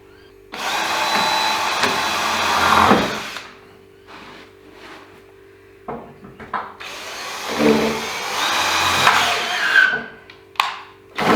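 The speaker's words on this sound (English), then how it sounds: "I'm going to pre-drill the middle and screw this in to hold it in place" A power drill pre-drills and drives screws into a recycled raised garden bed in two long bursts with a short pause and a few brief taps between them, loud and close, rising in pitch as it bites.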